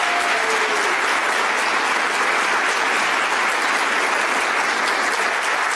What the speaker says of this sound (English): Would you please stand for a round of applause?